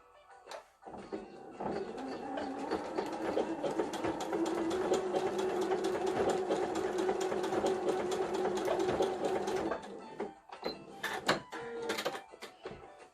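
A sewing machine stitches an overlock seam on a scrap of test fabric for a filter-replaceable mask, running steadily for about nine seconds, then giving a few short bursts and clicks before stopping.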